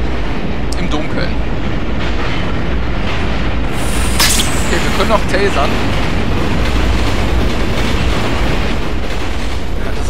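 A train rolls along in the video game Condemned: Criminal Origins, with a steady, dense rumble and rattle running throughout, loud and continuous, while someone talks over it.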